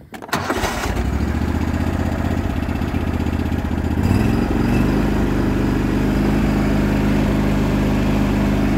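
Cub Cadet GT2544 garden tractor on AGRO tires, its engine running steadily and loud while the machine is driven, with a rise in pitch around the middle and a constant close drone.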